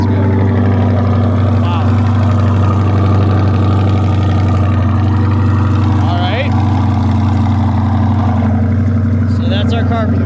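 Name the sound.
Chevrolet C8 Corvette engine exhaust running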